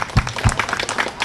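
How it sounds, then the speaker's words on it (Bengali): Brief scattered clapping from a gathering at a Durga Puja pandal visit in Syedpur, a handful of uneven claps rather than a full ovation, fairly close. "করতালি।"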